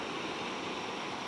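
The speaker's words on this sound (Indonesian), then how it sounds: "Ombak terkelihatnya masih besar" Large surf breaks on a trash-strewn beach by Masjid Al-Hakim in Padang, a steady broadband wash of water rolling close and loud, with no voices heard.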